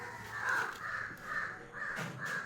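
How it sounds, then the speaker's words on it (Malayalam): Crows caw repeatedly in a steady series of harsh calls, about five in a row, moderately close with little else around. "കാക്കയുടെ ഭയങ്കര സൗണ്ടാണ്."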